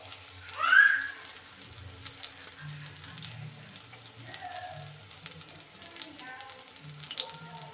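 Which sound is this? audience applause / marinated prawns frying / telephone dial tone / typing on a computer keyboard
marinated prawns frying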